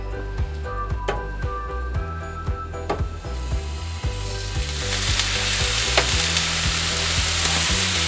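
Cheesesteak meat sizzles steadily on a hot griddle, with repeated metal spatula scrapes and taps over the frying, and the sizzle swells louder and brighter partway through.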